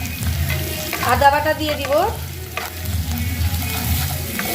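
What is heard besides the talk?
frying browned onions with chilli, ginger paste and spices, stirring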